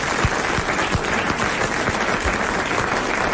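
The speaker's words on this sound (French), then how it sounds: "Nous l'applaudissons." Studio audience applause for a contestant who has just won 1000 francs on a 1992 French radio or TV game show, a dense, steady wash of clapping lasting throughout without voices.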